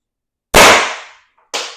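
Two sharp paintball marker shots from an X.68 fitted with a tuning chamber, or an Intrubuster with a 6-inch barrel: a loud crack with a decaying tail, then a quieter second pop about a second later.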